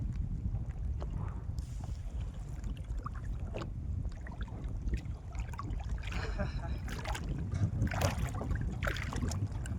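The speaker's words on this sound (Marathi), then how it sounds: "लय वारं सुटलं मित्रांनो" Strong wind blows while fishing by the water, with low, continuous gusting rumble buffeting the microphone and a few faint splashes and knocks scattered through it.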